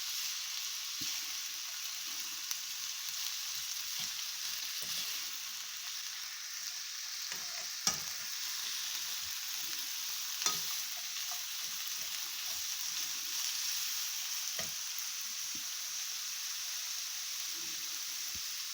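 Jamaican-style escoveitch fish frying in hot oil, a steady dense sizzle crackling throughout with a few sharper pops and spits, close and continuous with no voices.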